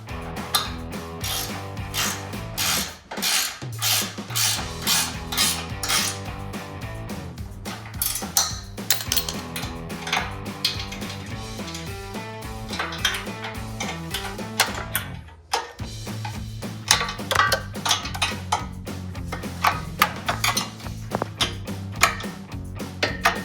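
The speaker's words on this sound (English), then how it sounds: "I'm going to use my 14mm wrench to tighten down those bolts that I put in." A 14mm ratcheting wrench tightens bolts on Jeep Gladiator JT step bars, giving rapid repeated ratchet clicking in bursts with brief pauses, close and clear.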